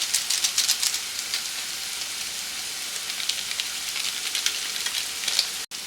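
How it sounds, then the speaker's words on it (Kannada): Maggi noodles with egg and two packets of Maggi masala frying in a pan over a low flame, giving a steady close sizzle with crackling pops throughout and no talk. "ಈಗ ಅದನ್ನು ಸಣ್ಣ ಉರಿನಲ್ಲೇ ಫ್ರೈ ಮಾಡ್ಕೊಳ್ಳೋಣ"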